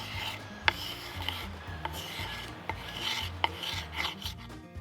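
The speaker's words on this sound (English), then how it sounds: "you can also use a steel ruler. It can act as a draw knife and really scrape off that grime" A steel ruler is drawn like a draw knife across a wooden axe handle to scrape off grime, making repeated rasping strokes with small clicks at the ends, close and fairly quiet, with no voices.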